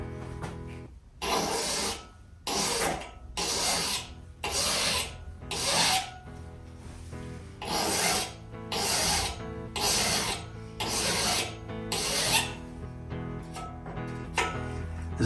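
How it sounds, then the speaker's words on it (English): A hand file is worked across the teeth of a crosscut saw, shaping each tooth. Rhythmic rasping strokes come about once per second, close and moderately loud, with short quiet gaps between them and no talking. "You then begin to sharpen down at the shoulder of the tooth and file upwards and rotating the file"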